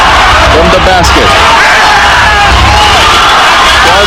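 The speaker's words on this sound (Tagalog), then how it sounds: "Crowd yelling defense." A dense basketball arena crowd at a Negros Slashers versus Surigao Warriors game roars and chants steadily, loud and continuous throughout.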